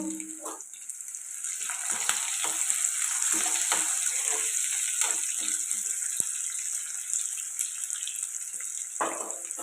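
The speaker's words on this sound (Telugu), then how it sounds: "ఇవి ఫ్రై అవ్వాలండి ఉల్లిపాయలు ఎలా ఫ్రై అవుతున్నాయి కదండి" Onions, green chillies and curry leaves fry in a pan for brinjal dal, giving a steady, close hiss of sizzling oil that runs unbroken throughout, broken by a few soft stirring clicks.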